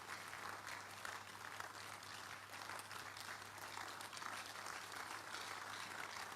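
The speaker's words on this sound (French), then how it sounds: "Give the Lord a big hand of praise." A church congregation at a bilingual prayer service applauding in praise, a continuous, even roar of many hands clapping at a distance, with a low steady hum underneath.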